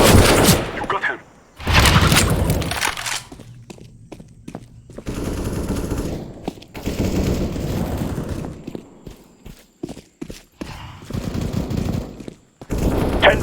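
Automatic rifle fire in Counter-Strike: Global Offensive team deathmatch on the Ancient map, with loud rapid bursts and single shots in uneven clusters separated by brief quiet gaps, plus occasional in-game voice lines.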